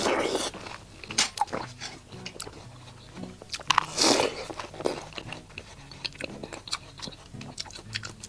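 Crisp, loud bites into raw watermelon crunch close to the mic, followed by wet chewing and squishing in irregular bursts throughout, with no talking.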